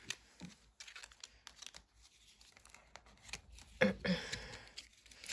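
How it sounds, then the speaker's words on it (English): Tarot cards shuffled by hand, a quiet run of soft papery riffles and slaps in short irregular bursts, close and faint with no talk. "So I'm going to have to shuffle these because these fell out."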